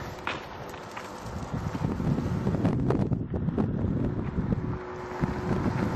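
Steady outdoor wind buffeting the microphone, a constant low rumble with gusts throughout.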